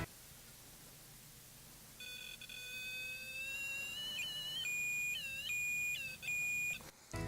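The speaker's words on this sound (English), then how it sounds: "The closer the spirit or the person gets, the noise goes higher in octave, just like this." A REM pod ghost-hunting device sounds steady electronic beeps and tones that rise in pitch and warble, clear and close against a quiet background hiss, with no voices.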